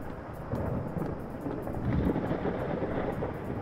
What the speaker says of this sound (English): There's a storm coming.